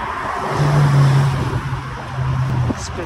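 A Porsche GT3 sports car drives past on a São Paulo street, its engine a steady mid-loud drone that swells and fades over a few seconds amid city ambience.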